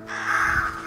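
A single crow caws once in the video game Röki, loud and fairly close, a harsh drawn-out call over quiet background.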